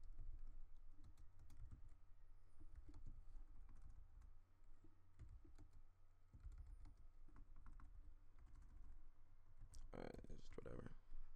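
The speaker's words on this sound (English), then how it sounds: "I was too focused on typing there again." Rapid typing on a computer keyboard during a League of Legends match, close and clicky in uneven bursts beneath low game sound and intermittent talking.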